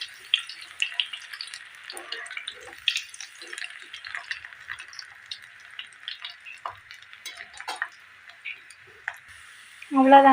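Sweet potato french fries sizzle and crackle in hot oil on a stove turned down to a simmer, with a steady, dense spatter of small pops running throughout and a louder burst near the end.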